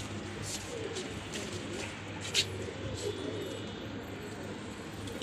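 Soft pigeon cooing against a steady low hum and outdoor background noise, with a faint click or two; no talking.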